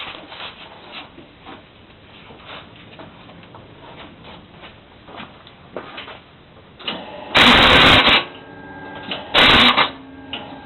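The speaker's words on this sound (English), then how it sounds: "So basically what you heard was the starter hitting the flywheel" Two harsh grinding bursts, each lasting about a second, break through a low mechanical hum: a faulty PowerMaster starter's gear clashing against the flywheel on a Monte Carlo.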